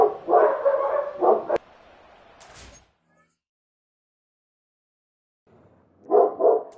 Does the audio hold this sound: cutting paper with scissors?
no